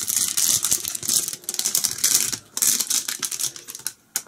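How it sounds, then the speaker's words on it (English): A plastic bag of molded plastic toy poos is torn open, a close run of crinkling, rustling and rattling bursts with no talking. "So let's tear the bag open."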